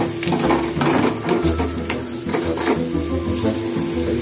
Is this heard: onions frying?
yes